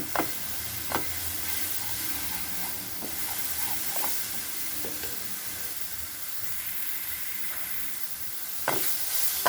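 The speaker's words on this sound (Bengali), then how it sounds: "আমি এই বাটাটা পাঁচ মিনিট মতো নাড়াচাড়া করে দিলাম" Thankuni leaf paste being stirred in a pan on the stove gives a steady soft hiss and sizzle, with intermittent scraping clicks from the spoon throughout and a sharper scrape near the end; no one speaks.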